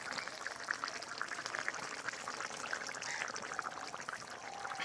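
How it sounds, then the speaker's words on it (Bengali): A simmering fish curry bubbles and hisses softly in a pan as cumin paste is added, with a continuous faint liquid seething and no speech. "এবারে দিয়ে দেবো শেষ বেশ জিরে বাটা।"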